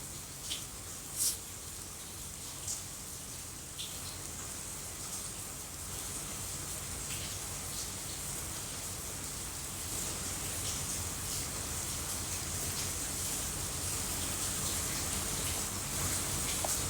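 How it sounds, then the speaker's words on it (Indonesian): Heavy rain pours steadily throughout, a dense hiss of drops on surfaces that grows slightly louder toward the end, with a few sharper drip spikes early on and no talking. "Iya lagi hujan deras"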